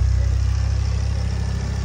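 A Ford Focus ST engine idles with a steady, even low rumble, close and unbroken for under two seconds with no voices.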